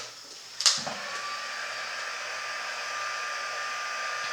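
An embossing heat tool clicks on and then blows hot air with a steady, even whir like a small hair dryer, holding constant after the switch-on.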